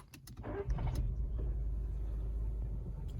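A 2020 VW Polo engine starts with the stop-start button: a few quick clicks, then a brief crank and the engine catching into a low, steady idle rumble, fairly quiet.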